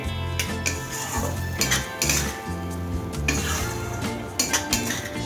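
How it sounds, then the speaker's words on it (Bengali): A spoon stirring and scraping through a spice masala with grated cashew in a pan, repeated metallic clinks and knocks against the pan over a faint sizzle, close up with no speech. "এবার ভালোভাবে মশলাটাকে কষিয়ে নেব।"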